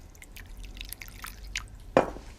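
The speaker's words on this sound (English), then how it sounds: "The same amount of water, another 2 tablespoons." About two tablespoons of water added to a sauce of light soy and vinegar, a few soft drips followed by one short splashy pour near the end, close and alone.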